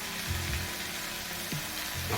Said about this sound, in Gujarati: ફક્ત તેલમાં એમ જ સાતળી લેવાની છે મેથીની ભાજીને.